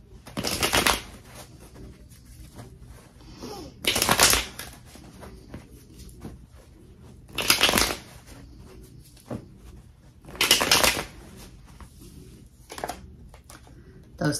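Tarot cards are shuffled and drawn, with four bursts of crisp riffling spaced a few seconds apart and quieter card handling in between.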